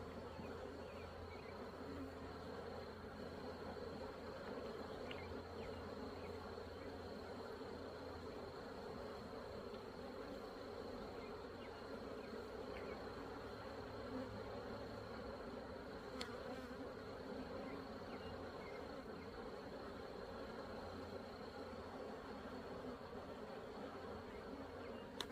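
Steady, dense buzzing of many honey bees around an open hive, continuous and close throughout, with no speech.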